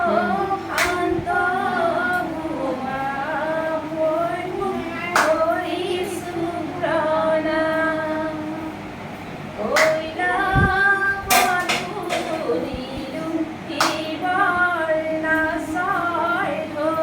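A group of women clap by hand in an irregular rhythm while a lead voice sings devotional nam. The sharp claps rise over the melodic singing, and the voices carry throughout.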